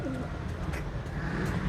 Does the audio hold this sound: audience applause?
no